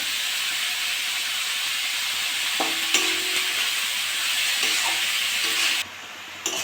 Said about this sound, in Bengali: নেড়ে চেড়ে একটু ভেজে নেবো